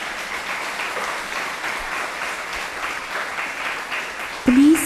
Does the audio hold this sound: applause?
yes